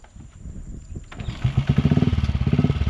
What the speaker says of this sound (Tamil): வண்டி ஸ்டார்ட் பண்ணிட்டான்